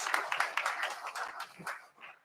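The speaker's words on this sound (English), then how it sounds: "Everybody, round of applause." An audience at an Army VERTEX energy event at Capital Factory in downtown Austin bursts into applause, a dense, close patter of many clapping hands that holds steady for about two seconds before thinning out.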